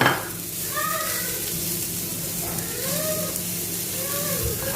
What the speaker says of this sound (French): Je fais frire mes oignons découpés.